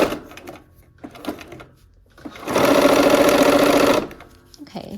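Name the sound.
sewing machine stitching quilt fabric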